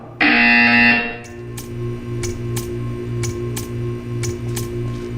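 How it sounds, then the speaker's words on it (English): A loud electronic buzzer in Portal 2 blares for about a second, then a steady hum continues with evenly spaced clicks ticking over it. "You will hear a buzzer."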